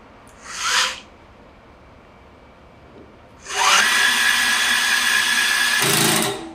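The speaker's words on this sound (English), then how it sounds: "So now we hit the lower button, we'll tap a hole or two for you here." A Roscamat Mosquito 110 V electric tapping arm drills taps into holes: a short whirring burst, then after a pause a longer, steady high motor whine of about three seconds that stops abruptly, close and alone.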